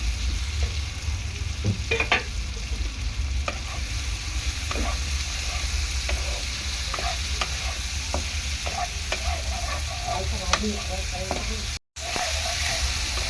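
Fried potatoes go into a pan for vegetarian aloo paneer and get stirred, the steady oily sizzle broken by repeated scraping and knocking of the spoon against the pan, close and continuous with no talking.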